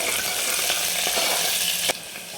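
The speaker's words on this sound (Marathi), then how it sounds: "या कांद्याला चांगलं सोनेरी कलरवर आपल्याला परतून घ्यायचं आहे" Chopped onion with cumin seeds sautés in a hot pan, a loud continuous close sizzle that drops off sharply near the end as the stirring stops.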